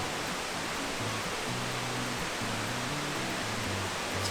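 Bridal Falls pours down in a continuous, hissing roar of cascading water, broad and even, heard at a moderate distance with low rumbling beneath.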